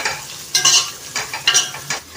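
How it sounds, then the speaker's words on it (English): Onions fry in a pan for biryani with a steady close sizzle, while a spoon stirs them in several distinct scraping strokes at roughly even intervals. "So fry onion till it is brown."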